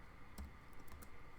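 Numbers are keyed into a calculator, giving a few faint, close button clicks at an uneven pace against a steady low background, with no speech.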